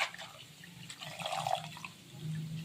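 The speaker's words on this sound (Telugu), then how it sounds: "ఎక్కువ నీళ్ళు వేసుకొని కొంచెం బాగా కడుక్కోవాలి" Amaranth leaves are washed in a generous amount of water, giving soft close sloshing and trickling splashes that rise and fall over a couple of seconds.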